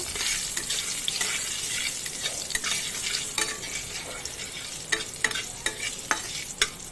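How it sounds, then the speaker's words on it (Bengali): Panch phoron seeds and a dried red chilli fry in hot oil, giving a continuous close sizzle with scattered crisp pops and clicks, while a spoon scrapes and stirs in the pan. "পাঁচ ফোড়ন আর শুকনো লঙ্কা একটু ভালো করে ভেজে নেব"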